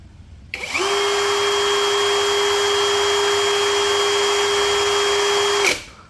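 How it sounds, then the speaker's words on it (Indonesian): A Doliz BD617 cordless brushless impact drill in drilling mode runs at speed setting 2, spinning up after a click into a loud, steady motor whine held for about five seconds before it stops abruptly. "Di angka 507 RPM, kita ubah kecepatan nomor 2."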